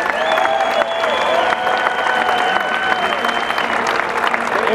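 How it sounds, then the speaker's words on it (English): A warm round of audience applause at the 2019 Pickleball Hall of Fame induction ceremony, dense clapping filling the room throughout with a sustained tone running beneath it. "So please give a warm round of applause for Jennifer Liqueur."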